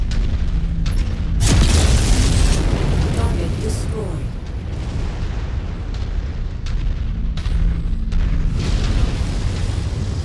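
A deep rumbling explosion as a target is destroyed in the Mechwarrior 5: Mercenaries video game, a loud boom swelling and rolling under continuous battle noise while a voice speaks over it.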